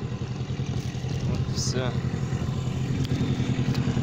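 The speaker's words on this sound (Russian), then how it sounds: "Моторчик." A small outboard boat motor runs steadily on the Kama River, giving a constant close hum while someone speaks briefly over it.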